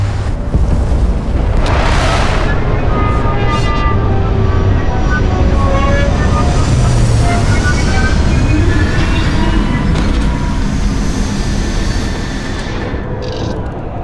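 A spaceship touches down in the Starfield video game with a loud, continuous engine roar and deep rumble that swells and holds throughout, layered with whooshing thrust.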